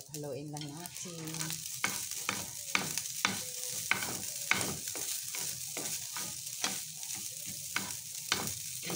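Eggs with a pinch of salt being stirred in a frying pan with a little oil, a steady bed of sizzle broken by repeated scraping stirs, while a voice briefly speaks near the start.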